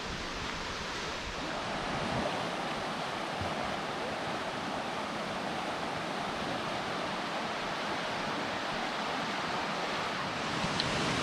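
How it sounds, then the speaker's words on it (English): A 60-foot waterfall pours into the side of a mountain creek in the Great Smoky Mountains, giving a steady, loud broadband roar of falling water that holds unchanged throughout with no voices. "so here is the Tom Branch waterfall, and this is a 60-foot fall, and it comes into the side of the creek."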